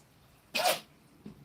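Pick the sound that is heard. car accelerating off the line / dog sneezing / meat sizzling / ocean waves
dog sneezing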